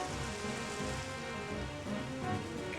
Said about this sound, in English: Uh-oh, it started raining heavily.